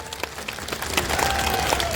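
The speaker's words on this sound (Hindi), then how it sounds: "जोरदार तालियों के साथ एक बार स्वागत करेंगे।" Crowd applauding at a large political rally in Nakur, steady moderate clapping from a big outdoor audience with no speech over it.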